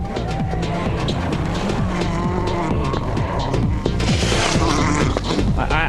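A Peugeot 307 WRC rally car at Rally Argentina 2005 on a slippery stage, its engine roaring loud and close with rapid gear-change and rev fluctuations and loose gravel spray, continuous throughout without talk.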